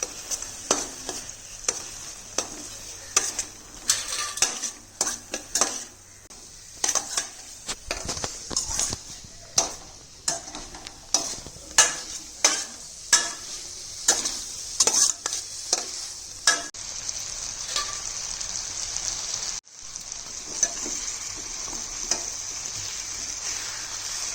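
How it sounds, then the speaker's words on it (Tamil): Turmeric and chilli powder fry in a pan while a spoon stirs and scrapes in a quick series of sharp strokes over a steady hiss, close and clear, with a short pause near the end. "இப்போ நல்லா கிண்டி விட்டுக்கலாம்"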